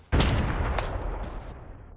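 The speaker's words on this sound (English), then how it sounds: "there are more bot gunshots again" Bot gunfire in a battle royale video game: a sharp shot opens a burst of rapid reports that decay into a rumbling tail, with later fainter cracks, heard alone without speech.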